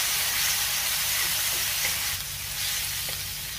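A splash of water hits a hot tawa holding ginger-garlic paste and turmeric, giving a loud, continuous hissing sizzle close up that eases slightly toward the end.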